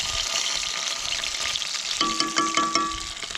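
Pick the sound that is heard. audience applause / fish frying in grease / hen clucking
fish frying in grease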